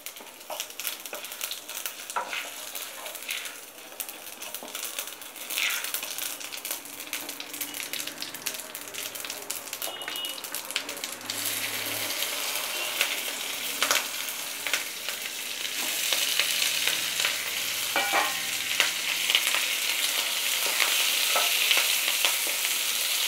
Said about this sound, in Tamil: இப்போ கடுகு போடலாம், உளுந்தம்பருப்பு போடுங்க, கொஞ்சம் சீரகம் போடுங்க.